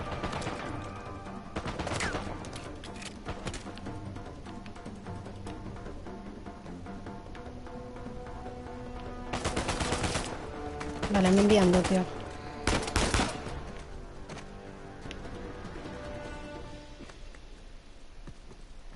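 Video game Uncharted 4 firefight with scattered gunshots and a few short loud bursts of automatic fire against a steady game backdrop, broken by quiet stretches, with a person talking partway through.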